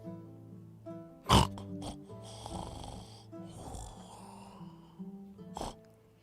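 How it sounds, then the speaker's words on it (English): Snoring sounds play behind a door as a tabletop fantasy game effect, several rasping, snorting breaths at an uneven rhythm, moderately loud, with faint voices underneath. "Snoring from within."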